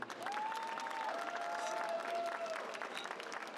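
An audience at a Star Wars convention panel applauds, a fairly quiet, even wash of clapping heard from a distance with a faint tonal whine running over it.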